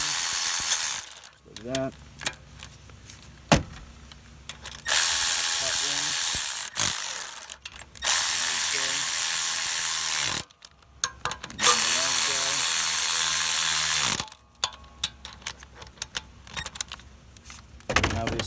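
A ratchet tightens alternator bracket bolts on a 2006 Kia Rio, with bursts of rapid clicking separated by pauses, close up, and someone speaking briefly between strokes.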